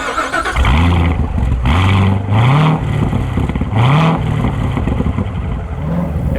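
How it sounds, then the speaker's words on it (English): A 2015 Chevrolet Corvette Z06 with quad exhaust revs hard and loud up close, several rising engine pulls climbing and dropping in succession with a raspy, booming note. "Listen to that quad exhaust, and what's great is that when you put it into sport or on track mode, the exhaust opens up even more"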